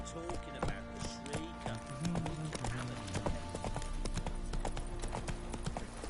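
Hooves of a horse clip-clop steadily in an open-world fantasy role-playing video game, The Witcher 3: Wild Hunt, with a rapid rhythmic beat under someone talking and occasional faint snorts.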